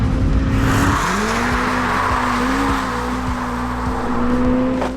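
A Hyundai RN24 electric car, a track-focused Ioniq 5 N, drives hard on a race track, oversteering under power: a loud, steady synthetic drive whine climbs and shifts pitch while tires squeal and scrub throughout, with no talk.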